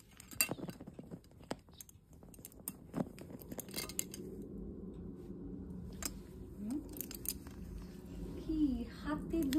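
A young Amazon parrot plays with spoons held in both feet, making scattered metallic clinks and clatters while a person talks nearby throughout.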